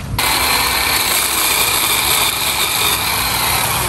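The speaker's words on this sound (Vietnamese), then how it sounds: "Cưa thử cái nhánh thôi, coi cưa được không?" Battery or petrol chainsaw cutting a coconut palm frond, a loud continuous high-pitched motor whine starting abruptly and holding steady with slight load dips.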